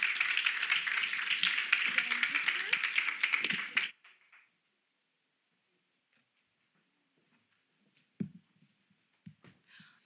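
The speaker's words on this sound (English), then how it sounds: "You can give them a round of applause." Dense audience applause, a steady wash of many hands clapping, stops abruptly partway through, leaving near silence with a few faint knocks and taps.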